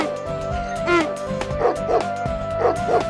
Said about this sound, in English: the dog barked